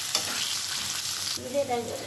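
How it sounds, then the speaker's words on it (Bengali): Potatoes with turmeric and salt frying in oil, a brief close, bright sizzle with stirring scrapes that shifts tone partway as the pan is moved, no talking. "একটু আলুগুলো একটু ভেজে ভেজে নিয়ে তারপর ডাঁটাটা দেবো।"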